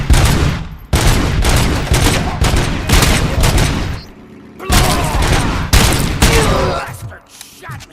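Sustained heavy gunfire in the video game RoboCop: Rogue City, dense automatic bursts with booming impacts in several loud stretches separated by short gaps.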